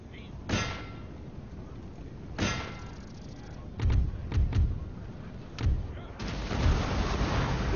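Artillery fire in the Napoleonic battle game Napoleon Total War: about six heavy booming shots and clanging impacts at irregular intervals over a low battlefield rumble, fairly close and loud.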